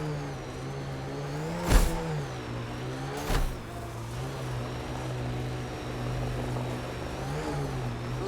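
Six-wheeled rover engine in Mass Effect Andromeda humming steadily while busting over sand dunes, with a couple of loud thumping impacts as the wheels land, the drone swelling and dipping throughout.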